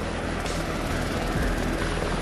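A helicopter flies overhead on a survey mission, a loud, steady, broadband rotor and engine roar that fills the whole stretch without pause.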